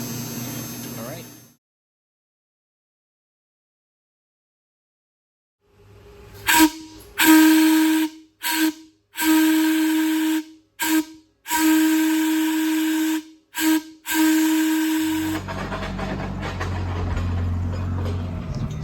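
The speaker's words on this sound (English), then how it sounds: "we got a whistle to test too" Steam-type whistle tested at a mine car shop, sounding in a series of loud, close blasts of varying length separated by short gaps, followed by rumbling machinery noise.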